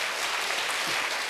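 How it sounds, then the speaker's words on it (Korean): Congregation applause during a Korean Sunday church worship service, a thick continuous burst of many people clapping together, brief and evenly loud. "다시 한번 박수로 주님께 영광 돌립니다"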